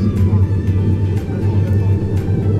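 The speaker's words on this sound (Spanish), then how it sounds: "conserva ese sonido característico de los Jaguar más potentes" Jaguar F-Type 2.0 300 hp rear-wheel-drive sports car on a racetrack, a low steady engine drone with rumbling exhaust, close and continuous throughout the short span.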